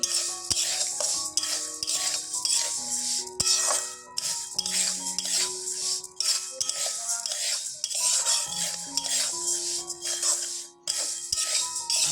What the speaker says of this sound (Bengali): মুগ ডালগুলো একটু ভেজে নিচ্ছি